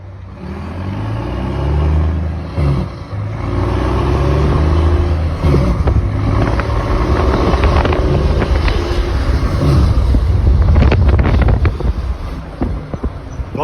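A Volvo FH truck fitted with an exhaust diffuser and the engine brake set to stage two roars loudly as it pulls away, a deep rumbling drone rising in intensity, with wind buffeting the microphone.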